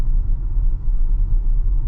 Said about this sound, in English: Gonna drive over some train tracks right now.